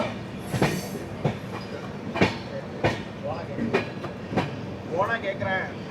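The Kerala Express rolls into Agra Cantonment, a soft background rumble punctuated by sharp, irregular clacks and thuds of wheels over points, with a voice speaking intermittently over it.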